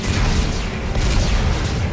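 Explosives detonate in Dead Space 3, a heavy, continuous low rumble of blasts that stays loud and dense throughout the two seconds.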